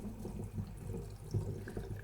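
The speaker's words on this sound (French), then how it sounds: "On va verser notre préparation dans la bouteille." Homemade lemonade pours into a bottle in a short, quiet, steady liquid gurgle with a low burbling texture and no talk.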